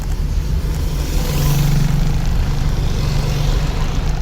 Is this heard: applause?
no